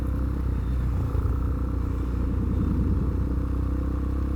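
Several motorcycles idling and rumbling together at a bike night meet, a steady low engine drone with clattering mechanical texture throughout and no speech.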